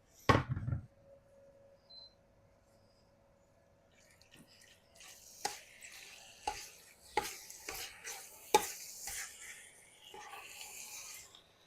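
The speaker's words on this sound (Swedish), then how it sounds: "Jag steker på dem tills de har fått lite färg runt om." Chicken pieces, added to softened onions in a hot pan, stir and sizzle after a sharp clatter at the start, with scraping and sizzling bursts repeating steadily.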